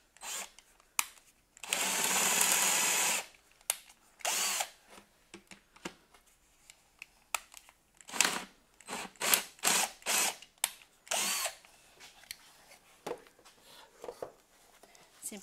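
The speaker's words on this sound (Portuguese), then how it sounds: "Eu vou furar aqui mais um bocadinho." A power drill bores into wood while making a decorative tray, running in a sustained loud burst near the start and then in short repeated bursts, with talk in between.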